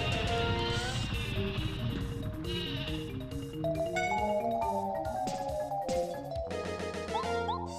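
Sleepy Sheep item effect from the Paper Mario video game: a run of synthesized sheep bleats over bright descending and rising musical tones, loud and continuous for several seconds.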